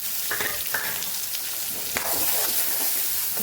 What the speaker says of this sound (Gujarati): ડુંગળીને આપણે સરસ સાતળી લેવાની છે